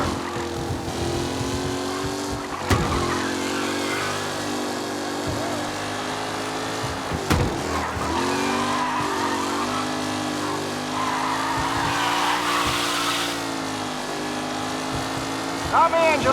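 Racing cars roar around a track in Mafia: Definitive Edition, engines droning steadily with shifting pitch and occasional sharp bursts, close and loud throughout as the pack pushes through the final lap.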